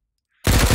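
A fully automatic firearm in the VR shooting game H3VR opens up after a short silence, firing a fast, loud burst of close gunfire that continues to the end.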